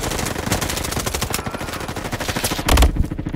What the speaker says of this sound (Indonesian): Woi, ditembak dari belakang